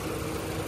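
Ford Escape automatic mini SUV engine idling steadily, a continuous low rumble with mild vibration, close and unbroken with no talk over it.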